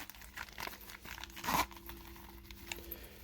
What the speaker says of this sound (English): nice zipper action